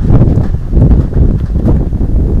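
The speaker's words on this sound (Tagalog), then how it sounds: "Amihan kasi ngayon dito. Malakas na hangin." Strong northeast monsoon wind buffets the microphone in a constant low rumble, loud and unbroken for the whole stretch, with no voices.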